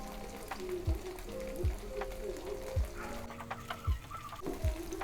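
Spring onion, ginger and salmon sautéing in a pan, a steady sizzle broken by repeated scraping stirs and clattering utensil knocks, close up, with faint talk under it.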